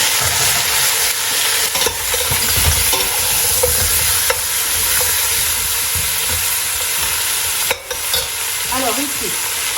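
Potatoes fry in a pan for a lamb colombo, a loud, steady close sizzle with scraping and rattling as they are stirred throughout.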